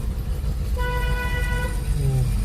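A single sustained car horn honk, about a second long, sounds over rumbling engine and road noise from inside a moving vehicle.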